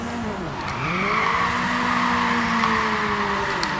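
Tires squeal through a long handbrake skid in Forza Horizon 4, a steady drawn-out screech lasting several seconds over a revving engine tone that dips and rises, loud and close, with no talking.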